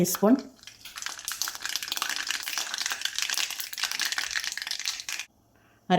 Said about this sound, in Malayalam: എണ്ണ ചൂടായി വന്നിട്ടുണ്ട്. അതിലേക്ക് 1/2 ടീസ്പൂൺ കടുക് ഇട്ട് കൊടുക്കാം.